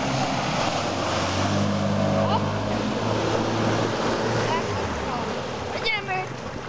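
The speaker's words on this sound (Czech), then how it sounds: "Taká, taká vlna!" Large wave striking a boat at sea, heard as steady loud wash and rumbling water with wind noise against the microphone, while voices shout and talk over it.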